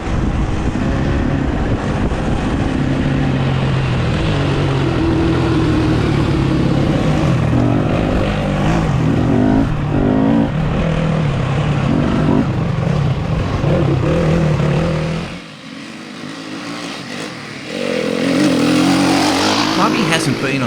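Yamaha 2020 WR250F trail motorcycles ride with a steady, close engine drone under heavy wind buffeting, dropping away briefly near the end before the engine noise returns.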